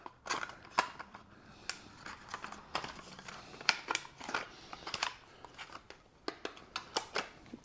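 Zip tie cutters handled close up, a scattered run of sharp clicks and snaps at uneven intervals, fairly quiet with no talking.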